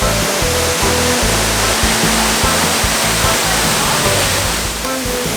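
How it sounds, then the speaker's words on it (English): Steady, loud roar of a waterfall at a tourist site in Grenada, broadband rushing water filling the whole clip with constant intensity, with faint low rumbles and possible murmurs of voices beneath. "This waterfall that we've arrived at"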